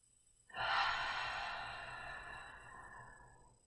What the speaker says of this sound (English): 2 more breaths.